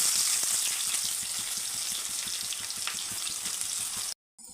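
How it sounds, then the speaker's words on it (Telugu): Onions sizzle loudly in hot oil for a fish curry, a dense close crackle that stops abruptly near the end. "ఆయిల్ హీట్ ఎక్కాక మనం ఆనియన్స్ అయితే వేసుకోవాలి."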